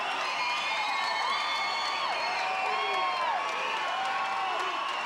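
Boxing crowd at Akwesasne cheering and whooping after a fight ends in a win, a steady, loud wall of cheers and shouts throughout, with high whistles rising and falling over it.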